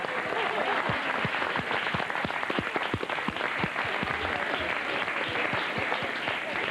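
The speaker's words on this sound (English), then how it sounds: "You did about a 3 on our applause meter with that" A television studio audience claps loudly and steadily for several seconds, dense and continuous, with a faint voice barely audible beneath it.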